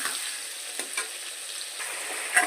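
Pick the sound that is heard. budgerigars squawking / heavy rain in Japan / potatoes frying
potatoes frying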